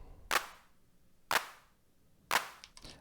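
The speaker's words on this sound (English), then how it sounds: "So if you go into Instruments, Drums, it's this first clap sound right here" An FM synth clap sample preloaded on a Dirtywave M8 tracker plays three sharp, snappy hits at roughly one-second intervals, with a softer fourth tap at the end, each hit decaying quickly into quiet.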